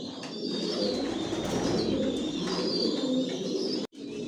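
Racing pigeons coo steadily in a home loft, a dense layered murmur of many birds close by, running unbroken before a brief cutoff near the end.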